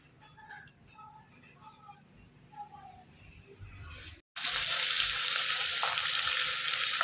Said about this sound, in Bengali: তো চলো এখন মাছগুলো ভেজে নেব